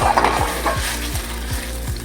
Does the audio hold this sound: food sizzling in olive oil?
yes